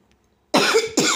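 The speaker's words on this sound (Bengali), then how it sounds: "দেখুন কিরম কাশি হচ্ছে" A person with a sore voice coughs twice in quick succession, close to the microphone and loud, after a short stretch of near silence.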